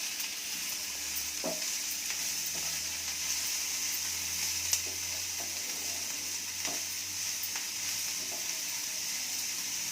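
Carrots and beans with salt sizzle steadily in a pan, a constant close hiss broken by occasional soft scrapes and taps of a stirring spoon, with a faint low hum and no talking.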